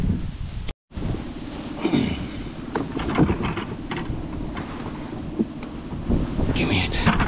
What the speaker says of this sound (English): It's just, it's hard being in the wind.